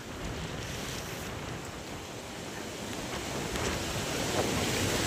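Rushing flood water and surf-like waves churn steadily, with wind noise buffeting the microphone; the wash grows slightly louder toward the end, with no voices.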